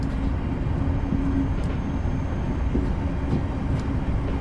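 A Sacramento Northern interurban train runs along its rails in Train Simulator Classic, a steady, dense rumble with faint rhythmic clicks from the track, heard alone throughout.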